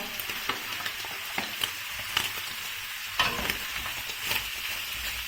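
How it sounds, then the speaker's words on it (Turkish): Beef heart fries in rendered tail fat, giving a constant close sizzle with occasional louder pops and stirring clicks, no talking over it. "Kuyruk yağımız kavruldu. Hemen yüreğimizi ilave ediyoruz."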